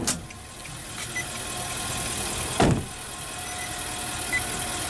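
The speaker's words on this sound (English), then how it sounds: "I can barely hear this motor running" A 2013 Infiniti QX56 with a 5.6 L V8 idles very quietly under the open hood, a low steady hum with a single brief louder whoosh partway through.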